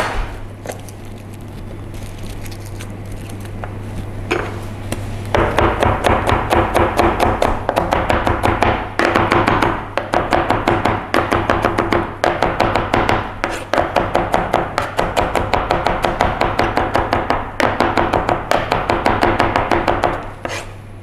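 Garlic cloves chopped quickly on a cutting board for a homemade American hamburger, a long run of rapid, sharp, steady knife taps close up, preceded by a quieter stretch of kitchen noise.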